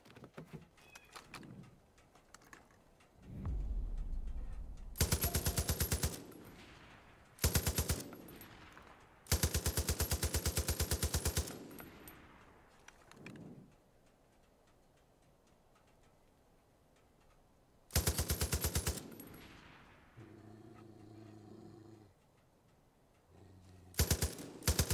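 A mounted gun fires in Far Cry 5 in several separate loud bursts of rapid shots, broken by quieter gaps holding faint engine rumble and ambient game noise.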